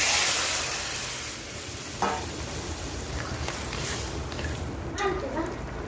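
Hot water hitting sizzling crab masala in a pan, a steady dense hiss and bubbling throughout with a few scraping stirs, moderately loud and close, no talking.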